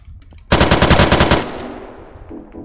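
AK rifle fired in the video game Unturnov: a rapid burst of about ten loud automatic shots in quick succession, followed by a fading echo tail.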